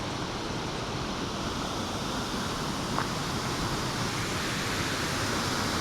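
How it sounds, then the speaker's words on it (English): Water rushes steadily inside the Taft Tunnel in Lisbon, Connecticut, a dense, even roar that fills the whole clip at close range with no talk over it. "You can hear the rushing of the water"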